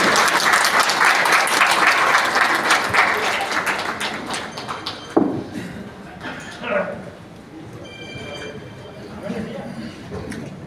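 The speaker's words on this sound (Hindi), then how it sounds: "माननीय अध्यक्ष जी, जोरदार ताली से स्वागत करें।" Audience clapping loudly to welcome a party leader onto the stage at a political gathering in Samastipur, a dense sustained applause that fades out partway through, followed by scattered taps and a voice over the quieter remainder.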